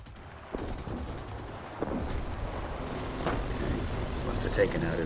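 Aircraft machine guns fire from a Potez 630 fighter in the War Thunder combat game, rattling bursts set against a steady engine drone, fairly loud throughout.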